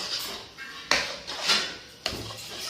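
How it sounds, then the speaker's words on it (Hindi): Sliced cabbage and other vegetables being mixed in a pan for chicken aloo rolls, with a few distinct scraping clatters of a spoon against the pan in a slow, uneven rhythm, close and moderately loud. "इसको अच्छे तरीके से मिक्स करेंगे सब्जियों को"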